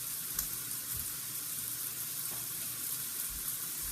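Sausage sizzles steadily in a hot frying pan, a constant close hiss with a few small pops and no talking.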